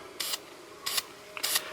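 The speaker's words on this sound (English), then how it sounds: "Make sure my can's spraying well." Three short hissing bursts from an aerosol can of Color Max spray paint, evenly spaced and close by, used for coating game controller buttons and a D-pad, with quiet pauses between each spray.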